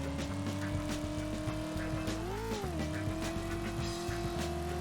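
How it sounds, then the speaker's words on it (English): Car drifting and doing burnouts in the Driver video game, a steady engine drone with a rising and falling pitch swell and underlying tire noise, loud and continuous with no talk. "Do not do burnouts when you're drifting."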